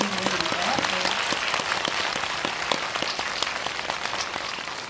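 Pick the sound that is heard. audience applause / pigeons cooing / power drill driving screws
audience applause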